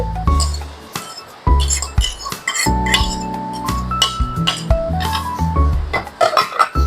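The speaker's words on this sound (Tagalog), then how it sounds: "Ihalo po natin ang kamatis at ang ating olive oil." Spoon clinking and scraping against a bowl while tomato and olive oil are stirred together, with repeated close, bright taps and rattles and some ringing tones over the whole stretch, no talking.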